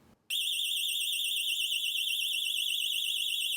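A Ubiquiti PoE siren blares alone at 20% volume, a loud, steady high-pitched wailing tone that warbles continuously after a brief quiet start.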